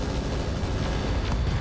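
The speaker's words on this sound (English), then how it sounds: "HMG ammo explosion" Heavy machine gun ammunition cooks off in a mech combat game, a dense, rumbling explosive roar that fills the whole moment with deep booming and a faint sharp crack near the end.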